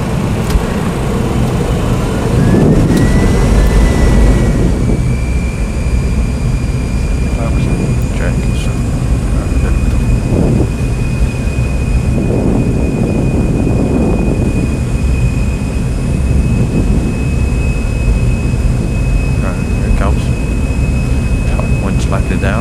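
Jet engines of an SAS Scandinavian Boeing 737 spooling up on the runway, a loud, steady, close roar with a rising whine and a high tone settling in, while the pilots talk over it.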